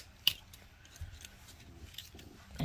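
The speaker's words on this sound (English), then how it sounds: "Straighten out your wire. And just snip the end." A single crisp snip as cutters trim the end of a straightened jewelry wire, close and sharp, followed by faint handling rustles and small clicks at a quiet work table.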